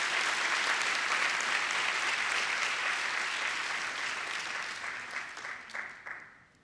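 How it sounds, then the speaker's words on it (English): Sustained applause fills a graduation ceremony hall, dense and steady for several seconds before thinning out with a few scattered claps at the end. "Can we give our supervisors a round of applause"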